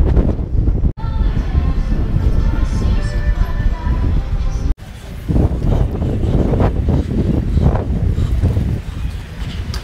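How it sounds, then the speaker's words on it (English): Wind buffets a microphone outdoors with a loud, rough, continuous rumble that is broken by two sharp cut-outs. Someone talks under the gusts. "It's windy out here."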